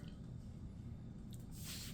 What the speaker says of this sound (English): See the juices coming out and dripping.